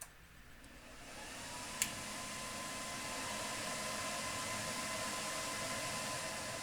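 Amplifiers for powering speaker banks switch on, a steady broadband hum and hiss swelling slightly after a brief click and then holding level in the background, no talk.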